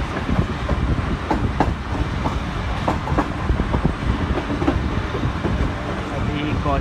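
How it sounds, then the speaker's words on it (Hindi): Millat Express train rolling along the tracks near Faisalabad under a caution order, with a steady dense rumble and repeated wheel clacks over rail joints, close and continuous throughout. "अभी कॉशन लगा हुआ है इस लाइन पर, तो कभी ट्रेन तेज़ हो रही है तो कभी हल्की।"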